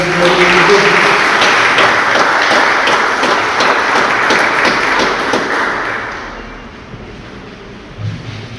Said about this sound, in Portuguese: Eu queria que você aplaudisse o Senhor